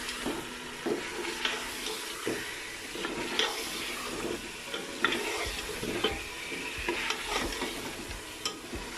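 Two beef trotters fry in a pot while being stirred, producing a loud continuous sizzle with repeated scraping and knocking strokes close by, and no speech over it.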